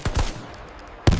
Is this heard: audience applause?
no